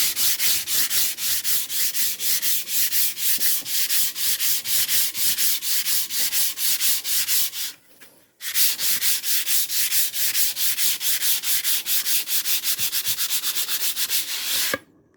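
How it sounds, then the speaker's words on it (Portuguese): Sandpaper scrubs a cement vase made with stone dust in fast, steady back-and-forth strokes, loud and close. The scrubbing stops for a brief pause, then resumes until near the end. "Agora vem com a lixa."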